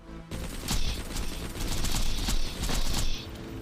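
Rapid pistol fire in a looter-shooter video game comes as a dense, continuous stream of close, loud shots lasting a few seconds, with no talk over it.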